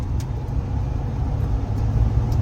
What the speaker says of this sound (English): you can hear it, all of the rocks and sand and stuff that come up on this side road here